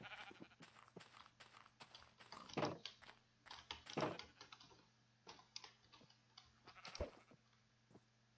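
Sheep in Minecraft give two or three short bleats, fairly faint, among steady clicking of keys and mouse.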